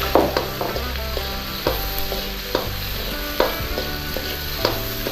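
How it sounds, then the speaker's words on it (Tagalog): Garlic, onion and ginger sauté in hot oil, giving a steady close sizzle. Scraping stir strokes from a utensil cut in at intervals, and no one speaks. "Tapos igisa na po natin yung ating bawang sibuyas tsaka luya."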